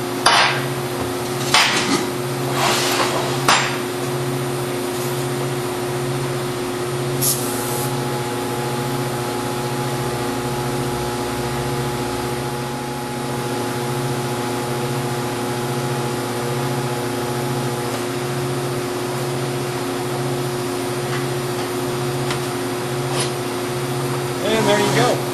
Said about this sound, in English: Now we'll just go ahead and finish welding around the top and bottom of the tube.